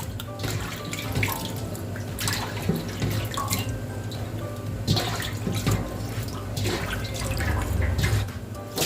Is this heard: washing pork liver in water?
yes